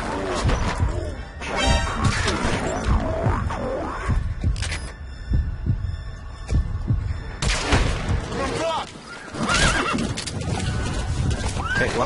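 A horse in Metal Gear Solid 5 whinnies loudly amid game sounds, with hoof clip-clops, thuds and a low hum forming a dense, close mix.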